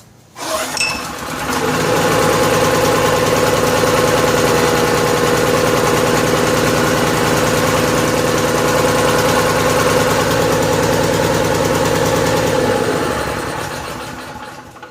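A Honda 2500 watt generator that sat unused for over four years sputters to life and runs at a steady, loud, buzzing idle for about twelve seconds before winding down and stopping.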